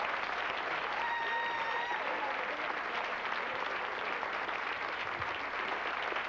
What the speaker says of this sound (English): Keep that applause going for Carrie Snow, everyone.